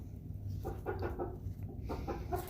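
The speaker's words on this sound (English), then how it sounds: "Just clucking about." Soft, low clucking from chickens, a few short murmured bursts over a steady background hum.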